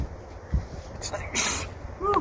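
One sharp sneeze bursts out close by amid faint background noise, followed by a brief breathy sound.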